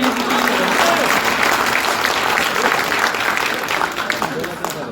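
Loud, dense applause from a crowd at a local event in Gonda, steady and sustained throughout before easing slightly at the end.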